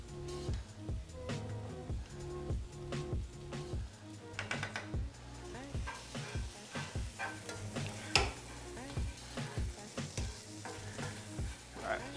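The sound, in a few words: stirring pasta in a pan on the stove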